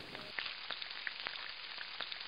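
Glutinous rice white sugar cake drops into hot oil for deep-frying, with a steady, fairly quiet sizzle and a few sharp crackles and pops over the top.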